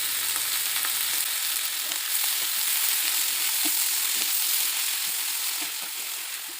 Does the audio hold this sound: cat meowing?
no